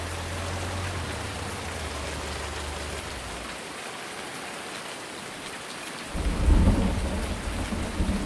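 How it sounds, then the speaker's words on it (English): In the video game Farming Simulator 19, rain pours steadily while a low rumble of thunder rolls in, then a louder thunder roll swells near the end. "Oh, thunder too?"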